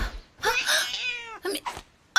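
A small cat meows one long, wavering, close cry, then gives two short chirping calls. No one speaks over it.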